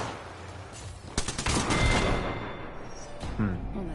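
Bursts of gunfire in Apex Legends Arenas, near and loud, a dense volley in the middle, with scattered shots and game effects around it.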